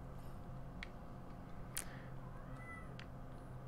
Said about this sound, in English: You're just a cat.